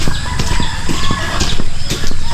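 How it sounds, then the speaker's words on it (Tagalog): Chickens and chicks on a farm cluck and peep busily up close, with loud overlapping calls, a crow-like cry and some wing flapping, all against a dense, lively background. "At dito yung mga sisiyo natin."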